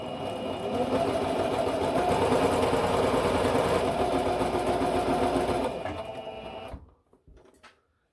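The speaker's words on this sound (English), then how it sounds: "put the footer down and sew away" A sewing machine stitches fabric Christmas decorations in a steady, close, whirring run of rapid needle strokes, then slows and stops, leaving a few quiet handling sounds.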